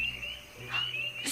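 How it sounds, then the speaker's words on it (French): A tree frog calls in a marsh, a faint, short croaking set against a steady high insect-like trill, with no other sound around it. "c'est une grenouille, une rainette."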